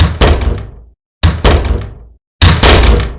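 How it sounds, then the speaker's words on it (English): Three heavy doors slam shut one after another, each a sharp, close, booming thunk with a short ringing tail, spaced about a second apart with silence between. "slamming the doors"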